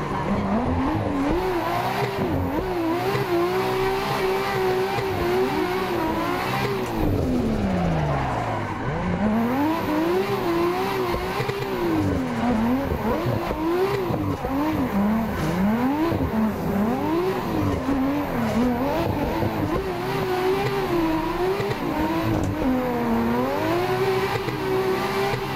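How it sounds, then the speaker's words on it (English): A drift car engine in Assetto Corsa screams near the rev limiter in fourth gear, revs rising and dropping in sweeping waves with stuttering limiter hits and tire squeal, loud and continuous for over twenty-five seconds. "You're banging the limiter in fourth,"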